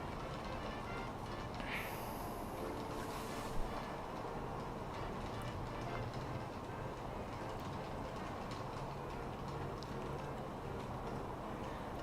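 Model trains rolling steadily in a low, continuous rumble with faint clicking, close and even throughout, no voices.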